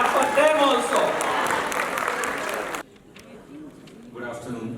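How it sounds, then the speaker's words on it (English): An audience at a school workshop claps for its leaders, a busy wash of clapping and crowd noise mixed with voices that cuts off abruptly partway through, leaving quieter room sound and scattered talk. "And clap for your leaders also."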